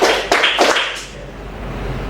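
Group clapping in a classroom clapping game: a few sharp, loud rhythmic claps in quick succession, then fading into quiet room noise.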